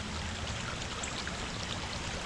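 Creek water rushes steadily over rapids outdoors, a dense, even broadband roar with no pauses, fairly loud and close, with no voices over it.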